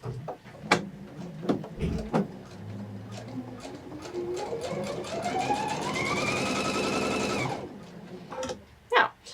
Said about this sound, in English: what we wanna do is just practice sewing a 1/4 inch